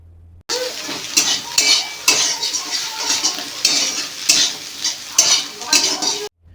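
Vegetables and egg being stirred in a frying pan for homemade pasta, with a spoon scraping and clattering in quick, uneven strokes over a steady sizzle.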